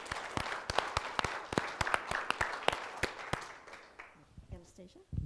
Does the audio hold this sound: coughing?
no